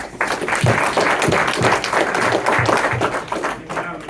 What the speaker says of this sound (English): let's give all the women in this room a round of applause